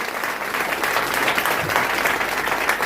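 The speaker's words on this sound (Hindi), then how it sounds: "आप लोग ताली इस बात पे बजा सकते हैं" An audience applauds a speaker at a business leader's talk, steady dense clapping from a crowd that fills the whole stretch with little talk over it.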